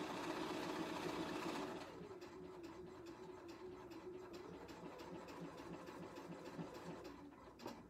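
A BERNINA sewing machine stitching a lap seam runs in a steady, fast mechanical whir, louder for the first couple of seconds and then continuing slightly softer and even.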